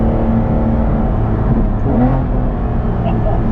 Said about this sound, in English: That downshift is savage.